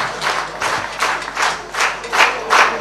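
A concert audience at an Azerbaijani ashiq folk performance claps in slow, steady unison, about seven rhythmic swells of hands at a roughly even beat, loud and close with no voices over it.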